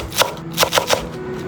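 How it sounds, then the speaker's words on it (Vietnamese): A knife chops green onions on a cutting board, giving four sharp, close knocks in an uneven rhythm over a quiet kitchen background, with no talking. "Vài nhánh hành lá mình đập dập cái phần gốc đi và thái nhỏ để trộn cùng luôn."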